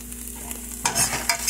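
Crushed red peppers cooking with purple onions and garlic for a tomato sauce, a soft sizzle that swells into a louder crackling fry with stirring partway through, close by with no talk.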